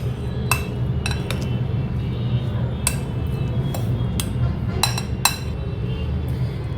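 A spoon clinks against a container while stirring a mango pickle mixture, giving sharp irregular metallic taps over a low steady background rumble.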